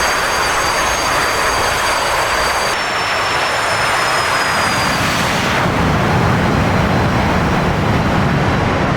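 A B-21 bomber in a video game rolls down a runway, its loud, steady jet engine roar filling the scene with a broadband rush and a high whine that rises then fades as it accelerates away.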